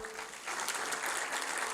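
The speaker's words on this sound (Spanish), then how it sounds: "Vamos a darles un fuerte aplauso." Church congregation applause greeting first-time visitors at a service, a steady wash of many hands clapping at moderate distance throughout the short stretch.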